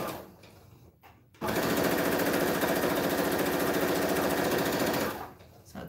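Sewing machine stitching fabric for a homemade face mask, a close, loud, rapid rattling run of about four seconds that starts after a short pause and then stops, with quiet movement around it.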